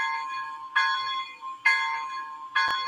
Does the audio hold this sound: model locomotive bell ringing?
yes